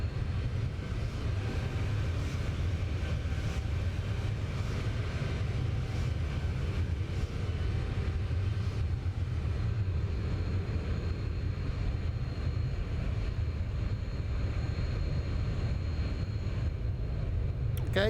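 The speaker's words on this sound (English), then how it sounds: "Plane sounds lovely." Steady, dense roar of the Zibo Boeing 737 airliner's engines in X-Plane 11, cruising level at 11,000 feet, a continuous broadband drone without pause.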